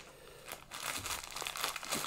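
Funko Soda packaging being ripped open by hand, a run of crinkling, tearing rustle bursts that stay close and moderately loud, with no talk over them.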